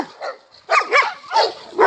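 Dogs in a dog park bark back and forth at close range, several sharp, loud barks and yips in quick, uneven bursts.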